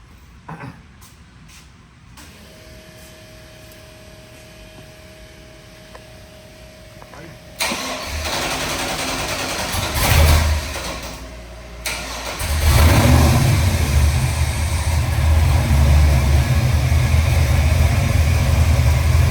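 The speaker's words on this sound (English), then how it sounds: "let's go out to the board and get you fired up so we can show you how your engine runs" An LS 427-cubic-inch 625-horsepower stroker crate engine cranks and fires up on a test stand, settling into a loud, steady rumbling idle with a brief rev, following a stretch of quiet background noise.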